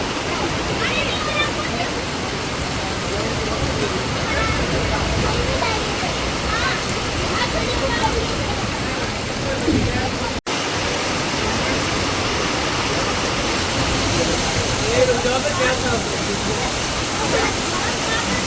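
Mountain water rushing hard during heavy monsoon rain: a loud, dense, unbroken roar of torrent and downpour close by, steady throughout with a brief dropout midway.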